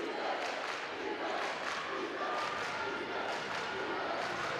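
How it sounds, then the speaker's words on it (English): A student crowd at a high school boys basketball game in Avon, Indiana, Danville Warriors at Avon Orioles, makes a steady, distant roar of cheering and chatter that runs throughout at low level. "Great student crowds for both of these two tonight."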